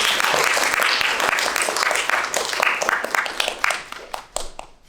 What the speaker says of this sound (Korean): 공경식 어르신께 다시 한번 박수 부탁드립니다